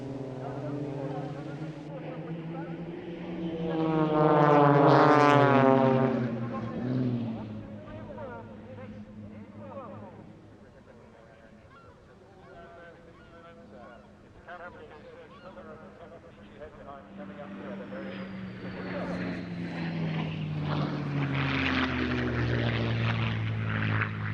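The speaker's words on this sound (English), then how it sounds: "Now it's only a small aircraft, 24-foot wingspan." A small aerobatic propeller plane with a 24-foot wingspan performing at an airshow, its engine swelling loudly as it passes near, fading, then rising again, with an announcer talking over it.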